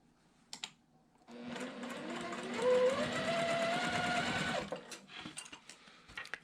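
Sewing machine piecing the center unit of a quilt block, a short run of fast, even stitching hum lasting about three seconds, framed by faint handling clicks before and after.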